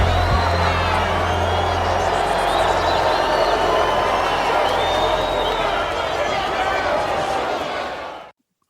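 Hostile boxing arena crowd in the film Rocky IV, a dense, loud roar of cheering and shouting that holds steady throughout, then cuts off abruptly near the end.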